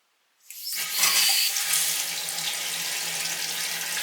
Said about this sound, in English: Now we'll turn on the water to the house again. The water's back on.